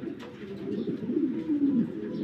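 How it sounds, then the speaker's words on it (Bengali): A pair of boot-footed pigeons coos in a low, throaty, continuous way, close by and steady, rising slightly in the second half, with no voices. "এই হলো কবুতর জোড়া।"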